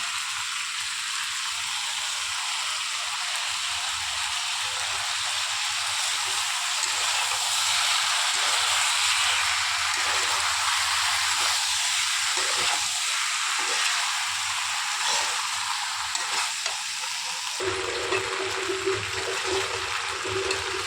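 Pasta frying in a pan just after spices go in, a loud, steady hiss and sizzle lasting throughout, with faint pulsing undertones and a slight shift near the end.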